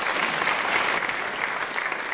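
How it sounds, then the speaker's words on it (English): A talk audience breaks into applause for the speakers, a dense, steady wash of clapping that stays loud and even for a couple of seconds with no voices over it. "give a big of applause to the speakers"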